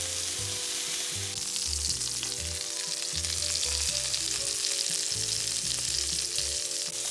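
Bavette steak sizzling in a tablespoon of butter in a hot pan, a dense, even crackling hiss held close and steady throughout, with soft music in the background.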